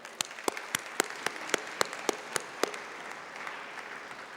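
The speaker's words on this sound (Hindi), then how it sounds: "इन सब के लिए ज़ोरदार तालियां।" Applause for volunteers at a three-day spiritual meditation gathering, a thin, scattered round of claps from a small audience with sharp individual hand strikes, some rhythmic, fading toward the end.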